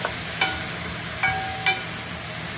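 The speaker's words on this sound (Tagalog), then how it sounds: "Halu-haluin natin mga kaibigan." Chicken curry wings, large ones, stirred in a pan with a few distinct scraping clicks of a utensil over a steady low sizzle, no voices.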